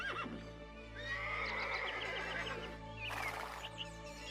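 A cartoon horse pulling a tonga cart whinnies in a long rising neigh, then gives a second shorter one, with a steady clip-clop of hooves and a low background drone underneath.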